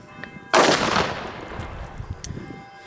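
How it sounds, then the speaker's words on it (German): A single Feistel Tannenwald Super A firecracker explodes outdoors with one loud, sharp bang whose echo fades away over about two seconds. "Scheppern ordentlich und die Größe echt schöne Böller."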